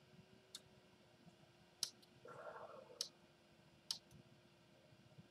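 Several sharp, distinct clicks from a button on a 3D printer, spaced about a second apart, with a short soft rustle in between, close and fairly quiet over a faint steady hum.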